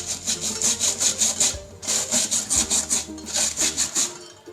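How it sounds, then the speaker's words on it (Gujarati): Rhythmic back-and-forth scrubbing of a metal tea strainer with a soapy scouring pad and dish liquid, a steady series of close, rasping strokes with a brief pause partway through, no voices. "કૂસાની ઉપર આપણે લિક્વિડ રાખી દઈશું અને આપણે ગળણીને ઘસી લઈશું"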